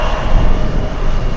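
Korean Air and China Airlines jet airliners at Anchorage make a brief, loud, close jet roar with no voices over it.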